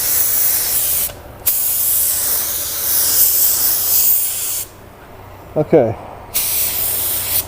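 A budget LVLP automotive paint gun lays colour over a small burn-through on a car panel, producing long, close, forceful hissing sprays broken by short pauses, with a brief spoken word between bursts.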